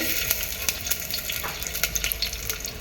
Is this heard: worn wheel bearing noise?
no